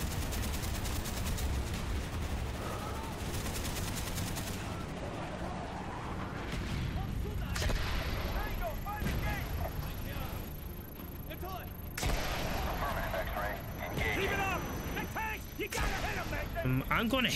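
Dense Call of Duty Black Ops combat audio during an airstrike strafing run, with sustained rumbling gunfire and heavy explosions, sharp cracks and blasts rising over the din, and radio-style voice chatter woven through.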